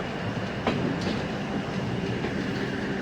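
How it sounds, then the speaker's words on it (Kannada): A train pulls out of Dandeli railway station, its steady rumble and rolling wheel noise continuous and fairly close, with a faint squeal early on and no voices. "ಈಗ ಬರೋಬ್ಬರ 6:15ಕ್ಕೆ ಇಲ್ಲಿಂದ ದಾಂಡೇಲಿ ರೈಲ್ವೆ ನಿಲ್ದಾಣದಿಂದ ಡಿಪಾರ್ಚರ್ ಆಗುತ್ತಿದೆ"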